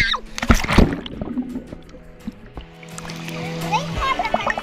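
People leap into the water at the Salto Grande waterfall, giving a loud splash early on, with children's voices and chatter around and rushing water continuing in the background.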